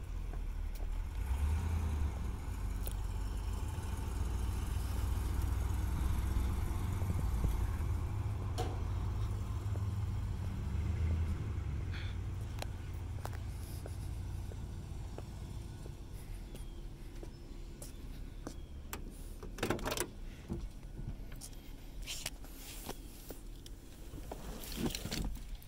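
A 1972 Chevrolet Monte Carlo's engine idles with a low, steady rumble that is strongest at first, then settles quieter, with scattered light knocks and clicks nearby and no talking.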